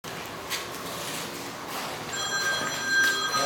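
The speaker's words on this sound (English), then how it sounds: "I hear a telephone." A telephone rings with a steady electronic tone that starts partway through, over a continuous background hiss. No one speaks.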